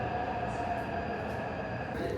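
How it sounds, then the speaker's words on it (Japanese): Early-morning subway train in Taipei running along, a steady rolling rumble with a faint tonal whine and occasional light squeaks, constant from start to finish. "早朝の人気のない地下鉄は新鮮で、"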